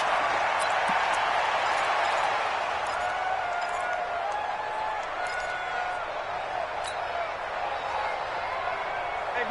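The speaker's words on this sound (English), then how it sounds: "I think there's a little more going on here than just crowd noise, though." Stadium crowd noise at Arrowhead in a Chiefs football video game forms a continuous, dense roar that holds steady throughout, with voices blended into the broad wash of sound.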